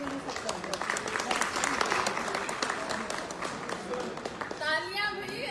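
An audience at a Hindi motivational event applauds steadily, a dense wash of clapping with a voice speaking over it near the end.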